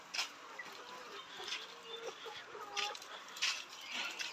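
Caged hens on a poultry farm clucking and cackling steadily at moderate distance, with overlapping calls over a continuous background hum.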